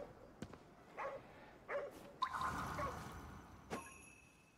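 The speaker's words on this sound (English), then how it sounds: "He's still barking at something." In Ghostwire: Tokyo, a dog barks faintly at a distance in a few scattered bursts over a soft ambient game background, with clicks and chimes near the end.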